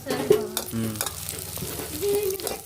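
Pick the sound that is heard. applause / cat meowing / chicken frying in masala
chicken frying in masala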